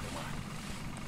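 A boat motor in Battlefield 2 drones steadily at close range, a low continuous rumble with no pause.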